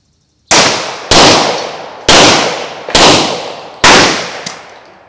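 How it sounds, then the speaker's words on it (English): Five sharp, loud pistol shots from a Glock firing .40 caliber 180 grain round nose rounds, spaced roughly a second apart, each with a ringing decay outdoors and no talking. "Now, I'm going to shoot the 180 grain, the round nose bullet."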